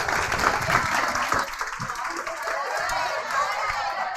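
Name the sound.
audience applause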